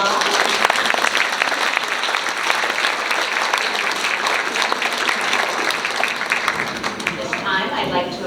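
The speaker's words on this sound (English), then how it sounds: "Let's give them a round of applause." An audience at a judicial candidates forum gives sustained applause, a dense, even roar of many hands clapping that holds steady for several seconds before easing slightly.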